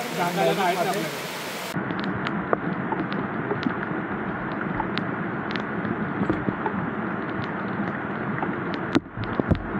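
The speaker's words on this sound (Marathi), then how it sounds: "पाऊस जोरात आहे का मित्रांनो" Dense, steady wash of heavy rain pouring down at Bhandardara hill station, Maharashtra, loud and continuous, after a short burst of other noise at the start.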